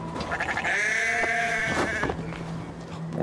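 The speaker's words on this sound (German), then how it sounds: "Oh Gott. Stereo-Schafe." Sheep in the video game Assassin's Creed Valhalla, several loud, wavering bleats close by, overlapping one another with little pause.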